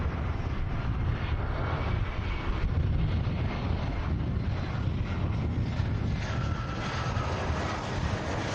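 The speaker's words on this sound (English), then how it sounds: "Great landing." An airliner lands at Manchester Airport, its engine roar a broad, steady, loud rush mixed with wind noise on the microphone, with no talk.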